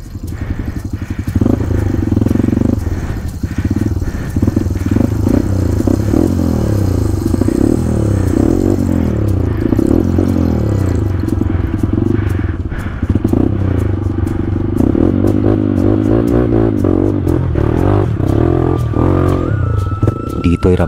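A motorcycle engine strains up a very steep climb on a remote route, a loud continuous low drone with shifting revs and some rattling and scraping, up close throughout.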